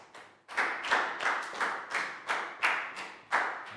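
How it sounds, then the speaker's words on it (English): Small group of schoolchildren in a Year 4 science lesson claps in short rhythmic bursts, about eight quick rounds of clapping rising and falling, close and fairly loud with no talking. "High five and a big round of applause for Net too, guys."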